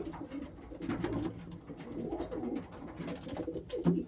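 Close, continuous cooing from racing pigeons in a loft, low throaty calls overlapping in a soft steady murmur without speech.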